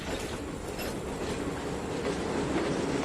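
A train in the Trainz 2019 simulator, running on overgrown track, backs up slowly at low throttle with a steady, loud rumble and faint rail clatter throughout, no voices.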